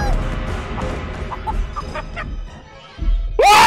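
A giant chicken in the horror video game Chicken Feet clucks and squawks up close, with a short run of fowl-like calls followed by a sharp rising cry at the end.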